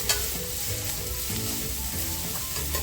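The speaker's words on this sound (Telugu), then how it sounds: "చక్కగా దోరగా వేగిపోనివ్వాలండి" Ridge gourd pieces fry in a pan for chutney, giving a steady, close crackling sizzle that holds throughout with only slight stirring noises and no talk.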